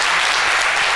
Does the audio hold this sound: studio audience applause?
yes